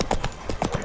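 Hoofbeats of Roach, the horse in The Witcher 3: Wild Hunt, a quick run of close clip-clop strikes in a steady gallop-like rhythm, with no talk over them.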